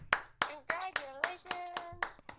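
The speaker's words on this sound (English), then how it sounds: "Let's clap for that." Several distinct handclaps in a steady rhythm on a morning radio show, with a voice talking in between, close and moderately loud.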